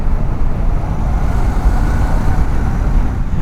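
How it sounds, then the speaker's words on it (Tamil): A Royal Enfield motorcycle passes on an open road, a loud, broad engine roar that holds steady throughout, close and with no voices. "இந்த ஃப்ளை பை சவுண்ட் வந்து இப்படி தான் இருக்கும் போல்"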